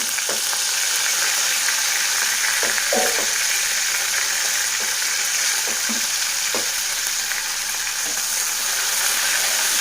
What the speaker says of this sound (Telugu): ఆయిల్ హీట్ ఎక్కిన తర్వాత శుభ్రంగా కడిగి పెట్టుకున్న రొయ్యలను వేయించుకోవాలి